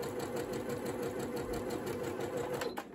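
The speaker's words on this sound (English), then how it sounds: "I simply press the start button and my sewing machine will start to stitch." A Janome Memory Craft 8200 sewing machine running at medium speed, stitching with a steady, rapid mechanical whir and rhythmic clatter, close up and continuous throughout with no voices.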